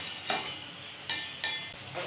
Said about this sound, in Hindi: इसी ऑयल में अब हम अंडे फ्राई कर लेंगे।